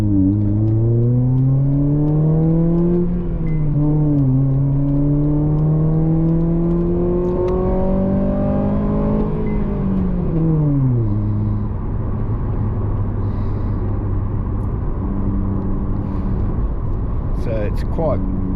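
A manual car's engine with a newly fitted cat-back exhaust, a loud close drone that climbs and dips as the car accelerates through gears, then settles to a steady cruising hum, with a voice speaking over it.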